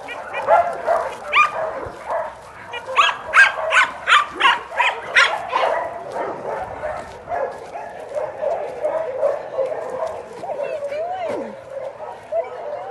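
Excited pups bark in quick repeated bursts, loud and close, followed by yips and whimpering whines that trail off toward the end.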